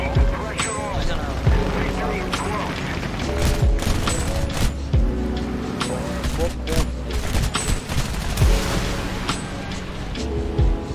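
Rockets fired in the War Thunder video game boom and crackle in a dense, continuous barrage of blasts and rumbling engine noise, with a voice talking over the top.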